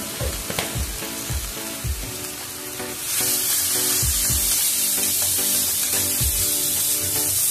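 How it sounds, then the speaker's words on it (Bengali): Ground spices with salt and turmeric fry in oil in a pan, with rhythmic stirring scrapes at first, then the sizzle swells into a louder continuous hiss partway through, and no one talks. "একটু মশলাটাকে একটু ভেজে নেব।"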